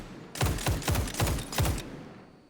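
Five evenly spaced gunshots in XDefiant fire in a steady semi-automatic rhythm, each a sharp close crack with a short ringing tail, followed by a fading echo.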